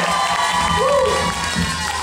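Brief burst of cheering and shouting from an audience at a results announcement, dense and close, with clapping blended into the crowd noise.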